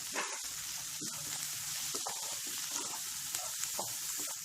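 Garlic, ginger and mint leaves sizzle and crackle in a hot pan, a steady hiss with scattered pops and stirring clatter for a few seconds.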